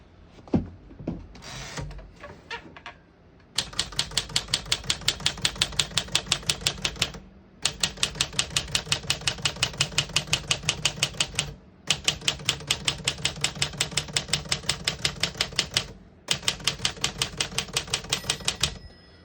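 A 1952 Smith-Corona Silent portable typewriter clatters in rapid, even keystrokes, close and crisp, in several long bursts of typing separated by brief pauses after some initial handling noises.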